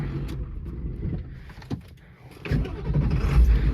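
A high-mileage Ford 7.3 Powerstroke diesel truck engine cranks and catches after a brief pause, then settles into a low, rumbling idle that grows louder toward the end, with no talk over it.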